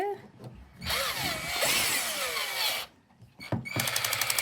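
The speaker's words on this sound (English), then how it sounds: "It's a drill, honey." A 20V cordless drill whirs in bursts, its motor pitch rising and falling as the trigger is squeezed, then a rapid ratcheting clatter near the end.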